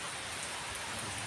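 Steady rain falls during the Sawan monsoon season, a dense, even hiss that holds throughout with no voices and no breaks.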